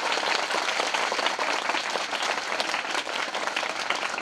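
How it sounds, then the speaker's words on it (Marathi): Loud, sustained applause from a lecture audience at a Mahatma Phule and Savitribai Phule birth-anniversary event, dense clapping filling the whole stretch at an even level with no voices on top. "एकदा जोरदार टाळ्या वाजवा."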